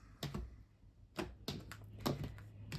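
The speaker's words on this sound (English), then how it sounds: "2 more shuffles and then we'll cut up the deck and get into your read" A deck of tarot cards is shuffled in a few separate sharp riffling bursts, close and fairly quiet, with short gaps between shuffles and no talking.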